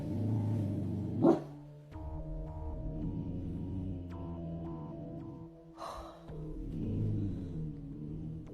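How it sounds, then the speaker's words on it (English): A dog lets out a few sharp barks, a loud one early and another later, separated by a low, droning hum. "What are you barking at?"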